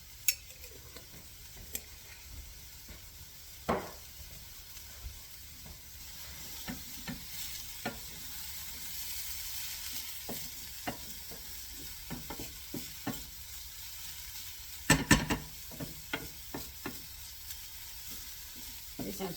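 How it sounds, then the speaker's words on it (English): Red pepper flakes sizzle steadily in a pan as they are stirred, with faint scattered taps and scrapes of the utensil over a soft, continuous frying hiss. "I'm stirring around to make sure that they don't burn"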